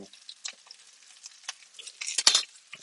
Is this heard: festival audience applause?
no